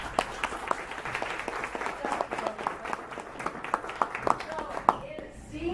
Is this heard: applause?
yes